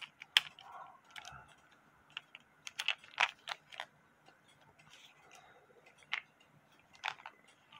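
Nuts are tightened on a 1988 Seth Thomas banjo clock during a repair, producing faint, sparse metallic ticks and clicks in irregular bursts against a quiet background.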